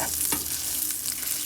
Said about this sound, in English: rub the bacon into it, let it sizzle in there